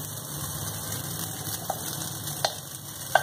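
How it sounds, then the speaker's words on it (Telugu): Ajwain and rice frying in a pan over low heat give a soft, steady sizzle with a few sharp clicks of a spoon or spatula stirring near the end. "వాము వేసినప్పుడు సన్న సెగ మీద వేయించుకోవాలి ఇప్పుడు ముందుగా ఉంచుకున్న రైస్ని దీంట్లో కలుపుకుందాం"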